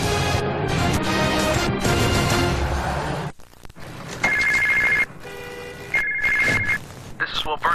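In a TV commercial, a cell phone rings unanswered with repeated bright trilling bursts, following a stretch of loud broadcast sound and heard under and between voices.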